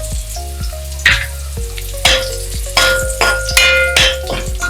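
Finely chopped onion frying in hot oil for village-style mutton rassa, a steady sizzle with repeated scraping stirs and pan knocks roughly every half second, close and fairly loud, with no talking.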